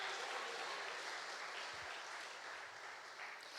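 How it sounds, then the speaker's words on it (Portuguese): A church congregation claps for the Lord, steady continuous applause filling a worship hall, faint and somewhat distant, without talk over it. "As palmas para o Senhor,"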